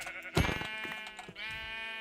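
Sheep in the video game Minecraft, near an island, let out a couple of clear bleats close by, a loud one at the start followed by a softer, drawn-out one, with no talking over them.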